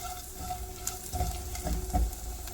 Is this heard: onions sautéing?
yes